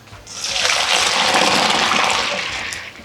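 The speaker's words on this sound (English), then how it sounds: "Now we're going to take them straight over to the sink and drain them." Pot of cooked noodles drained into a kitchen sink, a loud close gush of pouring water swelling quickly, holding steady for a couple of seconds, then tapering off.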